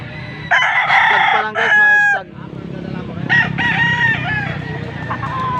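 Chickens and roosters at a poultry market in Angeles, Pampanga crow loudly and repeatedly close by, with clucking between the crows and faint voices in the background.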